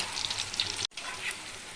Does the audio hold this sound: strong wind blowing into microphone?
no